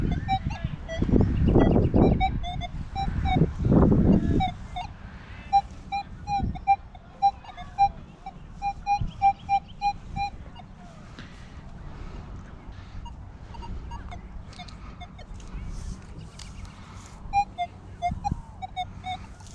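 A Minelab Manticore metal detector, set to high sensitivity, emits a series of short, faint electronic chirps from interference, scattered irregularly over outdoor wind and rustling noise, with a loud wind gust early on.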